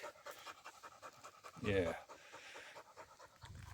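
A dog excited after spotting a small deer on a short walk pants rapidly and steadily close by, with a louder burst of breath near the middle, while a person says a word over it.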